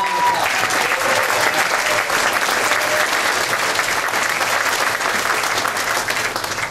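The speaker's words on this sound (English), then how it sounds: "Give us a round of applause." Sustained applause fills a room at a Republican Executive Committee Ronald Reagan dinner in Pasco County, dense and steady clapping from a seated audience that holds loud throughout and tapers slightly at the end.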